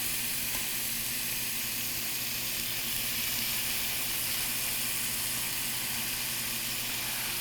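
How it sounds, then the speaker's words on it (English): A steady, even sizzle of fajita vegetables frying in a hot pan, close and continuous with no talking. "you want to hear that sizzling"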